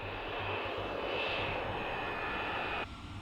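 Aircraft on approach to a runway, a loud steady engine roar with a sustained whine that drops off abruptly near the end, with no talk.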